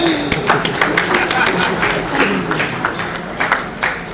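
Audience applause at an awards event, a moderate patter of scattered clapping with uneven bursts, mixed with a speaker's voice throughout.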